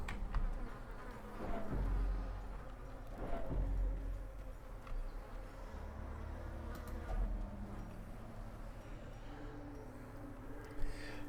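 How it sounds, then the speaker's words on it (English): Mosquitoes buzzing in the Darkest Dungeon video game courtyard area, a faint continuous insect drone under low ambient game sound, no voices. "you can hear the mosquitoes in the background"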